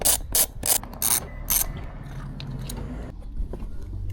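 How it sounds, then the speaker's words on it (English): A T30 bit ratchets out the bolts on a KTM 690's rear mud flap, a close, loud series of rapid pawl clicks in bursts, then quieter tool handling. "With the T30 bit, just back the rear mud flap off"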